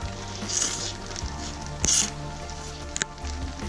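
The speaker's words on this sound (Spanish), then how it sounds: "Y la lluvia sigue." Rain patters steadily on a tent during a stormy high-mountain trek, a close, continuous hiss with a few sharper drips and taps standing out.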